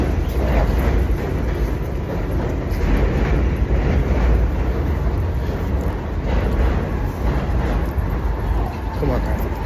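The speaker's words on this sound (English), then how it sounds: "I'm gonna let the train pass for a second." Steady low rumble and clatter of a train rolling past close by, loud and continuous throughout with no clear break.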